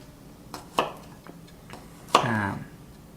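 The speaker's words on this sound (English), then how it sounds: "first thing we're going to start with is chopping the garlic" A kitchen knife slicing garlic cloves thinly on a cutting board, with a few separate dull taps followed by a louder cluster of chopping strokes, close and moderately quiet.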